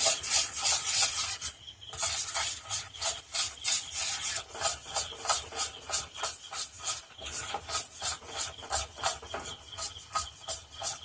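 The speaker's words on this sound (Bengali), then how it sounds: "এবার আমি এই ঘি আর চালের গুঁড়ো দিয়ে একটা ব্যাটার বানিয়ে নেব।" Ghee and rice flour being whisked into a batter, giving a steady rhythmic scraping and rasping of utensil against bowl, close and continuous with no talk.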